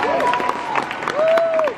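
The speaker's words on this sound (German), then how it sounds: "das verdient einen Applaus" A crowd at a public model casting applauds, the clapping mixed with cheering and raised voices, including a couple of drawn-out whoops.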